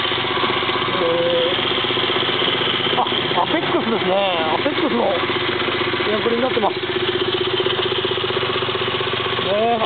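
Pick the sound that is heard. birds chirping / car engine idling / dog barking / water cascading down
car engine idling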